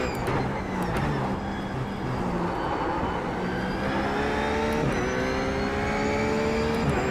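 A RUF GT3 Cup race car engine in the iRacing simulator, driven at Road America, revs and climbs through the gears with sharp rising tones and quick shift breaks, loud and continuous from start to finish.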